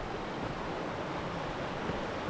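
Flowing water of the Kiwa River in Victoria, a steady broadband rush that holds close and even throughout, with no speech and no distinct splashes or breaks.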